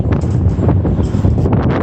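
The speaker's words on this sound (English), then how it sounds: "winds right now are gusting up to 94 kilometers an hour" Strong gusting wind batters the microphone in a steady, loud roar with buffeting pulses, heard outdoors near St. Joseph's Oratory during a storm with gusts up to 94 km/h.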